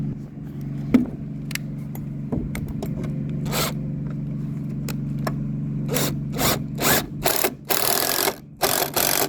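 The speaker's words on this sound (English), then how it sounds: "we're going to drill another pilot hole right here, and we're going to set another one" A power drill bores a pilot hole in wood while a bracket is fitted to a joist at a valley beam, with a steady motor drone and loud grinding bursts as the bit bites and clears chips.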